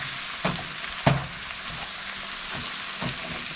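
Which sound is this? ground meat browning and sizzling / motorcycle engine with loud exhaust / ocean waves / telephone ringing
ground meat browning and sizzling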